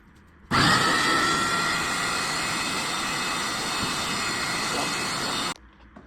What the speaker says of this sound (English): we're gonna grind this one more time, just to make it a little finer